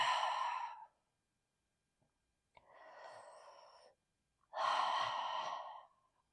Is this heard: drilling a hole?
no